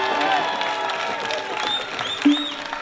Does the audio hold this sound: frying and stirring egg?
no